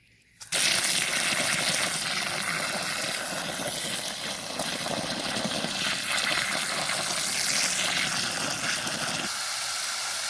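A garden hose pours water onto the ground of a chicken run, a steady, loud gushing wash that starts abruptly after a brief quiet moment and holds continuously without pause.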